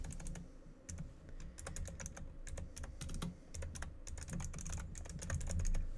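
Rapid, uneven keystrokes on a computer keyboard while text is typed, close and fairly loud, continuing in bursts across the whole stretch with no voices.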